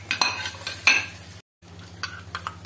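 A spoon stirs paneer masala, garam masala, turmeric, red chili and coriander powders into a sizzling curry masala paste, with close scraping and clinking strokes over soft frying, briefly cut to silence midway.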